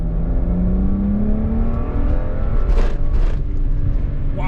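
A 13-year-old twin-turbo BMW accelerating hard, heard from inside as a steady engine tone climbing in pitch, then two brief whooshing bursts near the end, fairly loud and close with no talk.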